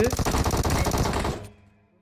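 A DBS shotgun in a video game firing a rapid burst of loud, close shots in quick rhythm for over a second, then stopping abruptly into silence.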